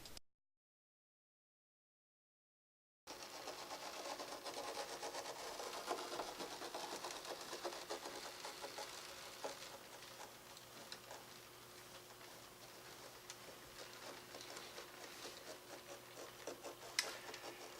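Mesmergraph sculpting machine pressing patterns with a ball, a faint, steady mechanical rustle and fine ticking that starts after a few seconds of silence and runs on evenly, with an occasional small tap.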